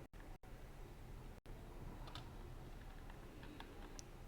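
Faint keystrokes on a computer keyboard entering a Linux command, a sparse scatter of quiet clicks over low background hiss, with no talking.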